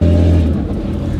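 A turbocharged Holden VL wagon engine revving hard on its first test drive, a loud close rumble that starts with a strong low drone and eases slightly as it goes.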